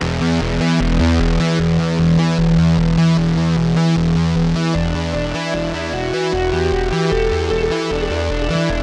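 Electric guitar run through a Boss SY-1000 guitar synthesizer's pitch-shifting effect, each note doubled one and two octaves above, heavily processed and continuous with no talking.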